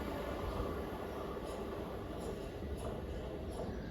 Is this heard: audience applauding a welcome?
no